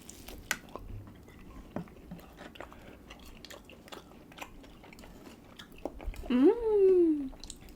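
Mac and cheese being eaten at close range, with soft wet chewing and mouth sounds throughout, a brief vocal murmur near the end.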